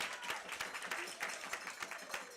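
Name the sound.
audience applause for Kendall Bennett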